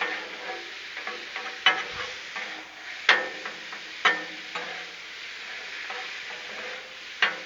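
Seasoned taco filling being stirred and scraped on a Blackstone griddle, a steady close sizzle broken by several sharp spatula clinks and scrapes at irregular intervals, with no talking.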